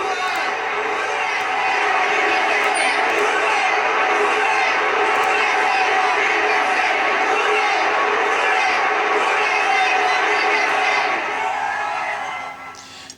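Loud New Orleans football crowd roaring in the Superdome during a Saints game, a sustained, dense wall of cheering and whooping that holds steady before fading at the end.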